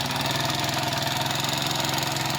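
A GY6 scooter engine on a Rusi Gala runs steadily up close with a fast, even ticking chatter over its idle hum.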